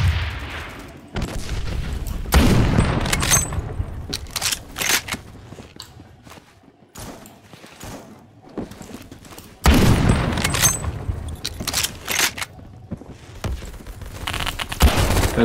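A BFG 50 sniper rifle fires in the video game Phantom Forces, giving single heavy booming shots spaced well apart. Game action noise and mechanical reload clatter fill the gaps between shots.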